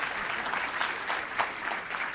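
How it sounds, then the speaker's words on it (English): Applause from a conference audience at a DevOps session, a fairly faint patter of clapping that carries on steadily, with a few louder claps standing out. "Everyone clap"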